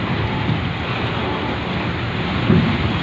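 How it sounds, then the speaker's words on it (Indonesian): Strong wind at sea sweeps steadily over a ferry deck in December's choppy weather, a dense, continuous roar of gusts and waves with a brief stronger buffet near the end and no voices. "Anginnya cukup kencang ya teman-teman"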